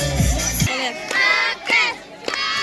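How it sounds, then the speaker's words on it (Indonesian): A crowd at a school football match, SMK Negeri 2 Kemaritiman Sopen against SMK Kesehatan Biak at the 2025 Smakes Cup, roars and shouts in loud surging waves after a brief voice at the start. "Aplaus. Seru, saudara-saudara."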